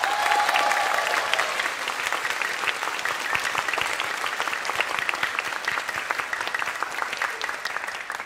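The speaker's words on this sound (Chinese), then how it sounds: "可以请大家再为我们身后这一群工作人员献上最热烈的鼓掌吗？" A university English Night musical audience gives the crew a sustained round of applause at the curtain call, dense steady clapping from a large crowd that slowly thins toward the end.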